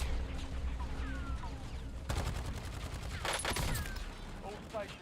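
SMG gunfire in a first-person shooter match, heard as dense, rapid bursts of shots that pick up midway and continue with brief pauses, under and alongside a player's talk and game sound effects.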